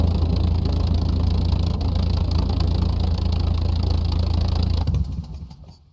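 A small plane's propeller engine in SCUM drones steadily at a low, buzzing pitch with no letup, loud and close, then cuts out and winds down over the last second.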